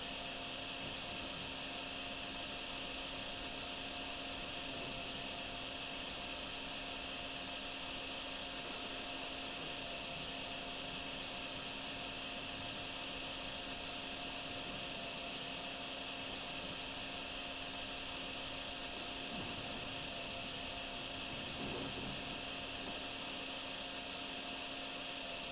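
A vacuum sucks up water in the flood-prevention video game Drain Sim, giving a steady, unbroken whirring hum that holds at a moderate level for the whole stretch, with no voices.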